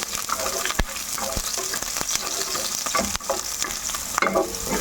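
Garlic frying in oil hisses loudly and steadily nearby, with frequent scraping and clicking stir strokes against the pan.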